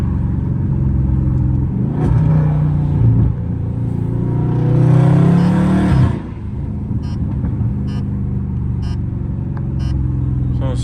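A catless Dodge Scat Pack cruises at night with a steady, loud low exhaust drone that swells into a stronger rev mid-way, then settles back to a cruising rumble.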